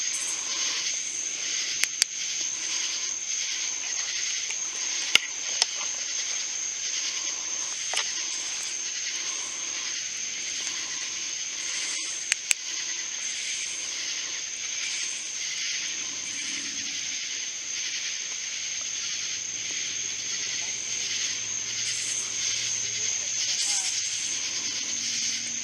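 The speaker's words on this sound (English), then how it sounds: "I know I hear the crickets and they're pretty loud" A steady, dense chorus of crickets chirps at night outside a church, loud and unbroken with a high constant drone, while a few faint clicks and quiet voices come through underneath.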